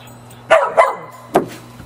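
Several dogs bark excitedly indoors during a family Christmas morning, three sharp close barks in quick bursts with quiet pauses between them and a steady low hum underneath.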